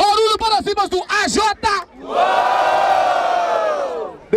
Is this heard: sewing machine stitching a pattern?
no